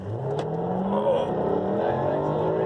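A Jaguar driven hard by a former Indy 500 driver, its engine revving and pitch climbing steadily as it accelerates, loud and close, with a bit of wind and cabin noise.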